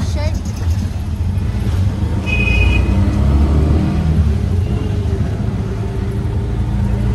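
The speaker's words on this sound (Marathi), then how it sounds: "इथे एवढी ट्रॅफिक आहे की माझं तर डोकंच खराब झालं आहे" Low rumble of road traffic heard from inside a moving car in Pune, with steady engine and road noise, faint passing vehicles and a brief distant horn under someone talking.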